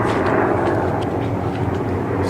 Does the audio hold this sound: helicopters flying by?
yes